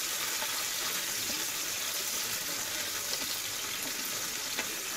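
Chopped tomato fries in a pan with onion, ginger and garlic while it is stirred, a soft steady sizzle with faint scraping, heard close and alone.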